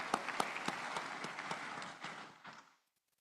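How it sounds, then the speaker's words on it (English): Audience applause at a summit opening ceremony: steady clapping from a seated crowd, with a few sharper individual claps standing out, fading away over about three seconds into silence. "Let's give them a round of applause."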